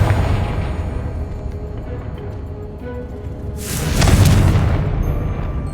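A Confringo blasting spell going off in the Hogwarts Legacy video game: a loud, deep boom with a bright burst that swells, rumbles for about a second and a half, then fades into low background game noise.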